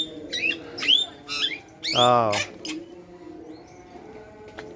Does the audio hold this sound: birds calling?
yes